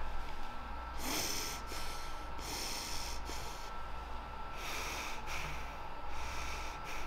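A person tests nasal breathing after a nasal procedure, giving several strong sniffing inhales through the nose in uneven bursts, close and loud over a low steady hum.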